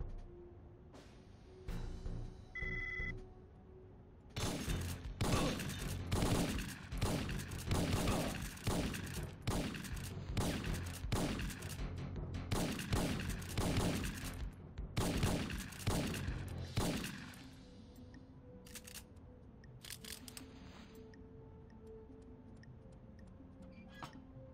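Rapid bursts of video game gunfire from Syphon Filter 3 during a Dublin mission, clustered volleys of sharp shots repeating for several seconds, then a quieter stretch with sparse single shots.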